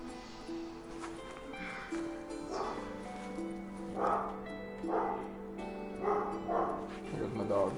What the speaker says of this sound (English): Here's my dog.